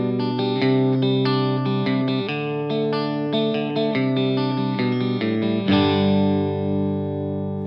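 Electric guitar played through a DigiTech Luxe detune pedal, chords ringing with a thick, doubled chorus-like shimmer, sustained and loud, ending on a strummed chord that rings out.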